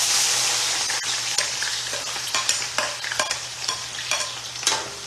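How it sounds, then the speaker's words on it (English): Regular, purple and green onions frying in avocado oil for a stew base: a constant hissing sizzle overlaid with repeated sharp spatula scrapes and clicks at an irregular rhythm, close and clear, with no talk. "So we're gonna fry some. This is regular onions,"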